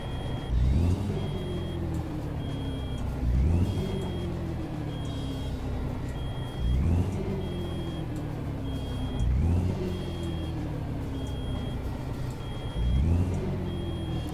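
Freightliner FLC truck engine in American Truck Simulator, a low diesel rumble with repeated rev swells rising and falling every few seconds, with a faint beeping tone above, steady and close.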